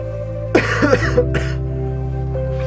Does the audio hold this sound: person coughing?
yes